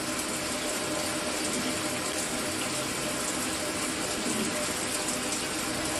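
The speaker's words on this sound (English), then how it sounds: "it does stop and start, which is quite annoying when you're having a shower." Water from a Mira electric shower with a stop-start fault runs steadily and fairly loud at close range, a dense continuous hiss with no break showing across the stretch.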